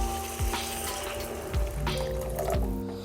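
Water poured from a vessel into a cooking pan while masala oats are made, a soft splashing, gurgling pour close by, with a few clunks of metal.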